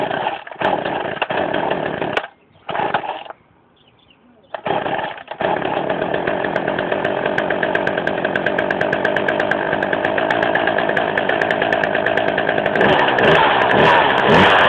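A Poulan Wild Thing chainsaw sputters through a few short bursts that cut out, then catches and runs loud and steady, a raspy two-stroke drone holding to the end.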